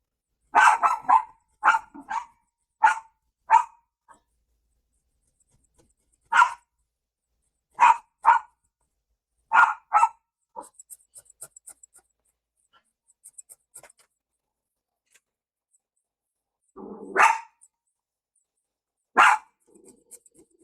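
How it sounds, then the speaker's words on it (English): A dog barks indoors at someone at the front door. Sharp barks come in bursts, several close together at first and then scattered, with quiet gaps and some faint scratchy sounds between. "Got my dog barking."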